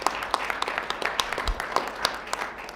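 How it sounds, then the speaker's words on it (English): Scattered audience clapping at an event honoring a Borough President, individual claps standing out unevenly rather than merging into a dense roar, moderately close and fairly quiet, with faint voices mixed in. "one more big applause for Borough President Gail Brewer"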